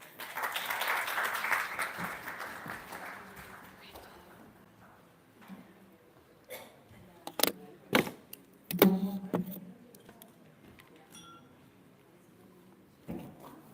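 An audience at a hackathon pitch competition applauds the teams, a strong burst of clapping that fades over a few seconds, followed by scattered thumps, shuffling and a few isolated claps in a quiet room.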